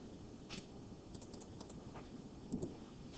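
Quiet, sparse key taps on a calculator keypad entering a number, a few faint clicks over low background hiss.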